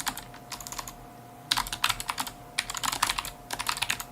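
Computer keyboard typing, quick bursts of light plastic key clicks in uneven clusters with brief gaps, close and fairly crisp with no talking.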